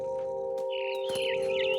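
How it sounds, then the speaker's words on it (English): A bird in the video game What Remains of Edith Finch gives quick warbling, sliding chirps in the second half, set over a steady tonal hum with a couple of soft clicks. "All I cared about was eating that mama bird."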